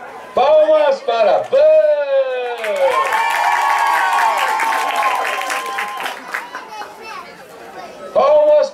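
A street theatre audience claps for several seconds in a dense wash, mixed with crowd shouting, between stretches of a performer's loud speech.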